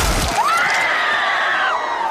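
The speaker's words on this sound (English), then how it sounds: "Then I smashed her head in like this!" A head being smashed in during a Game of Thrones fight scene: a wet crunching impact is followed by a rising, sustained scream that lingers close and loud for nearly two seconds.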